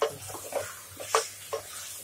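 Washed beef pieces browning in a pot for beef and potato saalan, giving a soft sizzle broken by a few quick scrapes as a spoon turns them over.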